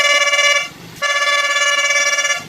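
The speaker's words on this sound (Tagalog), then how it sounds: "ang yellow horn" An aftermarket yellow horn fitted to a Honda ADV 160 motorcycle blares two loud, harsh blasts close by, a long honk, a brief gap, then a second sustained tone.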